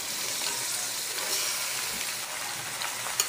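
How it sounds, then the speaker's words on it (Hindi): Chicken pieces frying with golden brown onions in a pan for a curry, a steady, close, broadband sizzle with faint stirring scrapes, no talking. "सारे चिकन हमने इसमें डाल लिए हैं और अब हम इसे फिर फ्राई करेंगे थोड़ी देर।"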